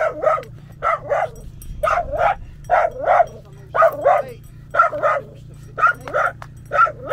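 Dogs barking repeatedly in quick doubled bursts, loud and close, with a steady low hum underneath.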